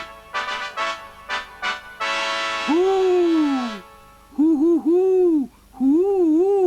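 A puppet-show voice imitates an owl hooting, with rising and falling hoots in a loud, close series after an opening burst of clattering and a bright chord.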